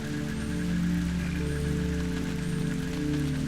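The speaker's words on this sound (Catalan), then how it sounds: "perquè està plovent tant" Steady rain from the video game Antichamber patters continuously on surfaces, a dense, even downpour with no voices over it.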